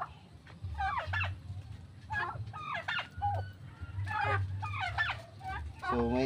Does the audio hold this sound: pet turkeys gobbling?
yes